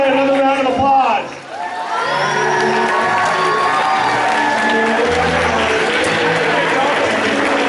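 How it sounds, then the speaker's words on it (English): Pageant audience applauds and cheers loudly throughout, a dense crowd of clapping with whoops and shouting voices over it after a short dip near the start. "Let's give everybody another round of applause."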